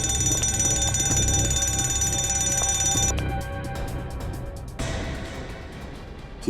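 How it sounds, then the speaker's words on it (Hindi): An alarm rings loudly and continuously with a shrill metallic bell tone, then cuts out abruptly partway through, leaving a quieter residual ringing that also stops, with no talking. "नीचे रखो, अलार्म बंद करो जल्दी।"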